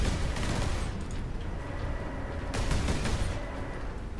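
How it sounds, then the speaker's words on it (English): Rapid bursts of turret gunfire from the Warhammer 40K: Space Marine video game, loud and continuous with dense overlapping shots and a sharper volley partway through, no talking. "Just stand there and get shot by your own turret"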